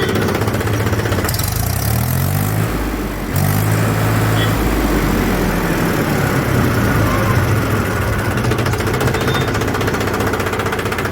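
A Mahindra 275 tractor engine runs steadily at idle, a loud, even, rapid firing rhythm continuing throughout with a brief low rumble of a voice or knock near the start.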